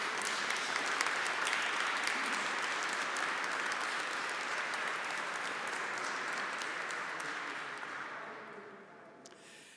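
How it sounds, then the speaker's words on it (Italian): Sustained applause from a congregation at the Chrism Mass of 2022, loud and steady for most of its length before fading out near the end. "perché insomma un applauso ci va"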